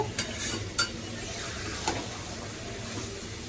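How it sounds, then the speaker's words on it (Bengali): Vegetables and carrots being stirred with spices in a pan, low sizzle under scraping and a few sharp clicks of the spoon on metal, close and fairly quiet. "সব দিয়ে ভালো করে নাড়াচাড়া করে মশলাগুলো যেন একদম মিশে যায় সবজির সাথে"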